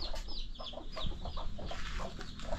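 A flock of chickens and many chicks cluck and peep on a rural farm, a busy continuous chorus of short overlapping calls heard close up.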